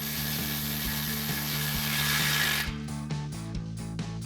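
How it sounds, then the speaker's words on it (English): Tool tightening a muffler clamp on a Toyota Tundra stainless steel exhaust with a 14mm socket, a steady buzzing whir with regular rapid clicking, faint, shifting to rougher ticking toward the end. "tighten down this clamp"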